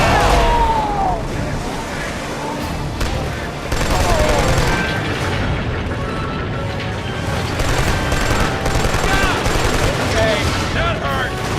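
Dense, near-continuous automatic gunfire and bursts of rifle fire from a Killzone 2 battle at Corinth River, loud and crackling throughout with heavy impacts layered in the combat noise.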